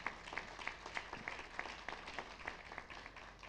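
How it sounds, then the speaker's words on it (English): A faint, distant round of applause at a Juneteenth national forum on reparations, with claps falling into a fairly even rhythmic beat throughout and no one speaking. "Give them all a big round of applause"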